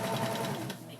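A serger runs steadily as it sews a seam around curves on a fabric isolation gown, a brief near whir that eases off slightly toward the end.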